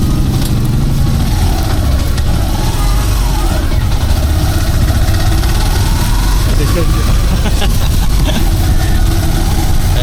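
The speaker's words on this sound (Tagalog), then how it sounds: "Masakay na tayo ng tricycle." A motorized tricycle idles nearby with a steady low engine rumble and a faint rattle running through the whole stretch, while voices talk over it.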